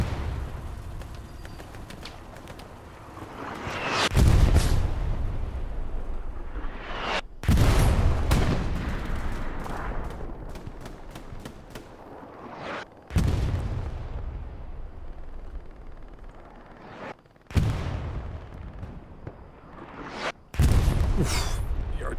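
Heavy artillery shells in the Hell Let Loose battle game, Carentan Causeway map, crash down in a series of loud booming impacts, about six blasts spaced a few seconds apart, each with a long rumbling decay over a steady low battlefield drone.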